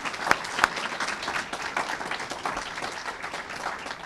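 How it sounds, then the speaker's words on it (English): Audience applause at a mayoral bill-signing ceremony for a building emissions performance standard, a dense, steady wash of many hands clapping throughout, with a couple of sharper claps standing out near the start. "Let's clap on that one,"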